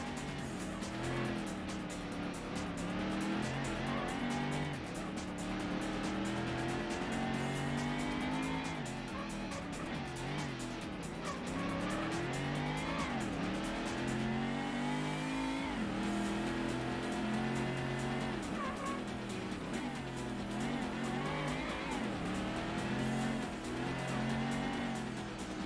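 Ford Mustang race cars in the Ford Racing video game roar at close range through a final lap, with continuous revving engines, rising and falling gear shifts and intermittent tire squeals running without pause.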